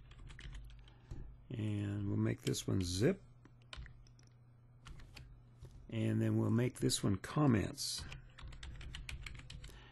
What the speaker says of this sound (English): we just type this in from our keyboard